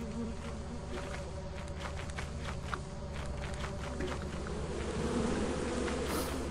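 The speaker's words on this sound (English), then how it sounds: "The bees are after him." A swarm of bees drones steadily through Lethal Company. The buzzing is close and dense and runs without a break, with faint thuds in the background.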